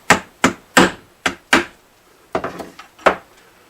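A glued brace inside a Kay acoustic guitar struck repeatedly, seven or so sharp woody knocks in an uneven rhythm, close and loud with short ringing decays and quiet gaps between.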